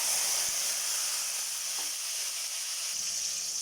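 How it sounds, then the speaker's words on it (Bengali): Chopped tomato, green chili and onion fry in hot oil in a wok, giving a steady bright sizzle close up, with a few faint stirring knocks and no talking. "এবার এটা সুন্দরভাবে ভাজা ভাজা করে নেব"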